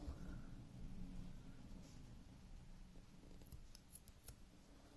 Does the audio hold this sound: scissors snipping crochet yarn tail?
yes